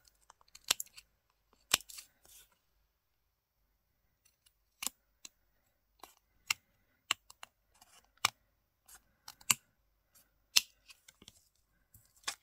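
Scissors snip through paper while cutting away the overhanging edges of a Christmas art collage card, giving sharp, crisp clicks in scattered irregular bursts with quiet pauses between them, close up with no talking.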